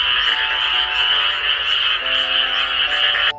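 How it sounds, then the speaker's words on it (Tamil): Frogs croak together in a dense, steady chorus beside a jungle pond, a loud continuous trilling wall of calls with faint higher chirps layered in, holding for several seconds before dropping off abruptly at the end. "தவளைகள் எல்லாம் ஒண்ணு சேர்ந்து குளத்துக்கு பக்கத்துல கச்சேரி நடத்த ஆரம்பிச்சுது"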